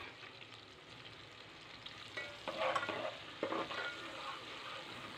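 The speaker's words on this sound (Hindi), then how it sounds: "प्याज जो है लाइट ब्राउन होने तक हम इसको फ्राई करेंगे" Onions frying in oil in a pan until light brown for dhaba-style masala bhindi, giving a steady soft sizzle with a few louder bursts of stirring near the middle.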